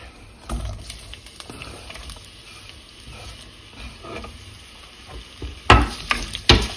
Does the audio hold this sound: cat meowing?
no